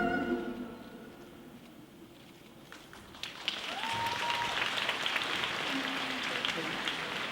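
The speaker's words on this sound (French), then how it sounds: "On les applaudit très très fort." A cosplay show crowd at Japan Expo bursts into applause partway through, dense clapping that rises and holds, after a quieter stretch with a voice over a hall's murmur.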